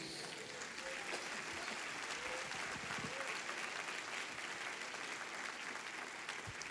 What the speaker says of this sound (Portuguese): Você pode dar uma salva de palmas por isso?